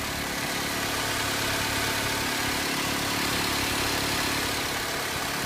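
A 2008 Honda Civic 1.8 liter 4-cylinder engine, on test after an accident, runs at a steady idle with a continuous, even hum at close range and no voices.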